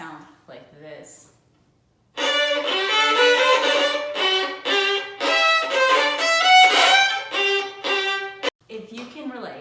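Violin played badly by a beginner, a few thin scratchy notes, then a loud run of harsh, uneven bowed strokes with abrupt starts and stops, close and alone.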